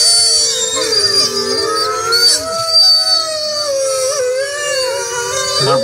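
A pack of wolves howls in a dense chorus of sliding, overlapping tones, some voices dipping and rising, loud and sustained without pause.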